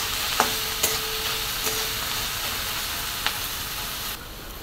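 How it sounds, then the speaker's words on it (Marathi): Chopped onion sautéing in a pan for egg bhurji, a steady soft frying hiss with a few brief clinks of a spatula against the pan, fairly close, with no talking. "त्याला कांदा छान असा परतून घेऊया आपण आता."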